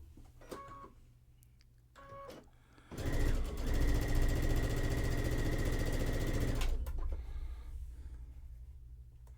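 A sewing machine runs in one steady, loud burst of rapid stitching as fabric pieces are sewn together, framed by quieter handling and clicks before and after.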